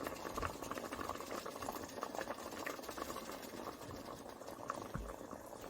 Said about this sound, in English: I will break 2 eggs and whisk them. And gently pour the eggs